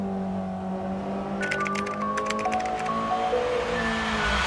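Sim racing game car engine revving and accelerating through a turn, a steady tonal engine drone with rising and falling harmonics and some brief crackly bursts mid-clip, continuous and fairly loud with no talk.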